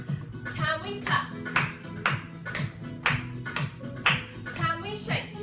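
Young children aged two to five clap their hands in a creative dance class, a run of regular, fairly even claps mixed with a teacher's and kids' voices over a steady musical backing.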